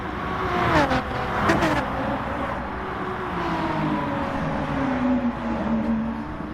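A NASCAR stock car racing around Mount Panorama in GT Sport, its engine droning steadily and close, with pitch shifts as it accelerates and changes gear, plus a brief whoosh of other cars.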